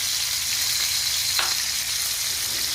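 Shrimp and a bone fry in a hot pan with a steady, dense sizzle that holds level throughout, close and continuous, with a faint clink partway through.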